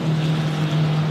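A Maserati Gran Turismo GT4 race car engine drones steadily in a brief, loud, sustained tone at a track race at Zandvoort.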